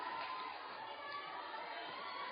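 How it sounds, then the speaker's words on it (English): Crowd murmur and chatter fill a high school volleyball gym during a Carroll at Lewis Central match, a steady, moderately loud wash of voices with no single standout shout. "Really nice Carroll crowd on hand here tonight."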